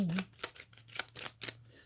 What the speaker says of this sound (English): We'll give them a quick shuffle.